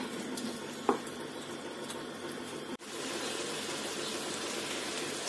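An onion and pepper mixture fries in oil with a continuous close sizzle and soft crackling, briefly broken by a stir or clatter, then a fuller hiss of frying with no voices.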